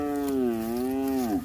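A young Sahiwal heifer calf gives a single sustained moo lasting over a second, loud and close, with a steady tone that drops slightly at the end; no talking.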